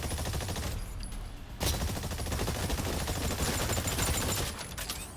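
Sustained automatic gunfire in the dinosaur shooter Exoprimal, fairly loud and dense rapid shots rattling steadily throughout with a short dip near the start, no talking over it.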